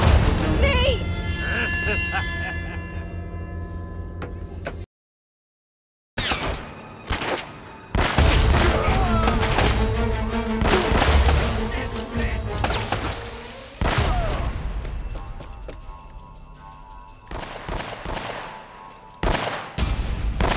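Sustained gunfire in Uncharted: Drake's Fortune on PS4, with repeated sharp shots and bursts across a long stretch, a brief silent gap early on, and game music and voices in the mix.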